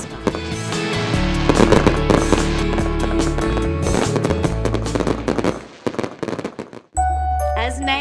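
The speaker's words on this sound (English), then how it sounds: "As the champagne flowed and the fireworks burst with enthusiasm into the night sky." Fireworks burst into the night sky at an evening event during Audi Hamilton Island Race Week 2013, a sailing regatta, with sharp pops and crackles mixed in with loud, steady music.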